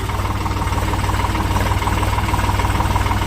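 A tractor engine runs being driven out of a shed, making a loud, close, rhythmic low thumping with a steady chugging pulse throughout.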